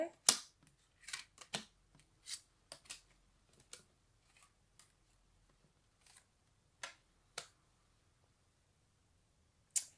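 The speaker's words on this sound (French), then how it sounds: "Je vais tirer d'autres cartes pour avoir plus de détails sur l'évolution." Tarot cards are drawn and laid down, giving sparse, sharp snaps and flicks close by, scattered irregularly across a quiet room.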